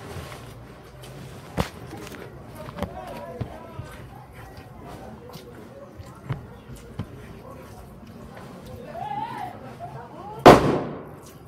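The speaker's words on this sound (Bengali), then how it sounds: "সেরকম বাজি ফাটাচ্ছে দেখো।" Firecrackers burst outside with sharp, scattered pops at a distance, a couple landing louder and nearer, over steady background hum while a person talks over them.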